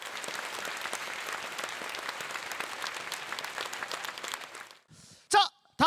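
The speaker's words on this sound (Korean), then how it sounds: "박수 부탁드리겠습니다" An audience applauds at an outdoor temple singing contest at a silver cultural festival at Palgongsan, steady clapping lasting about five seconds before stopping, then a brief voice over a microphone.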